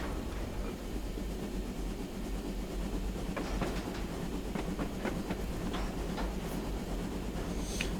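A model B1 locomotive train runs steadily along its track on a model railway layout, giving a continuous rolling rumble with a scatter of light rhythmic clicks from the wheels over the rail joints, and no voices.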